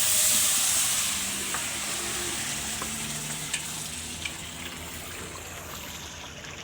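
Meat sizzles and fries steadily in a pan while being stirred, with a loud hiss at the start settling into continuous frying and occasional light scraping clicks.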